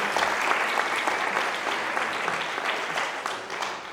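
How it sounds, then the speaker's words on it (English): An audience applauds steadily at a conference keynote, a dense wash of clapping hands that holds throughout and fades slightly at the end. "Can you give Nick a big round of applause too, please?"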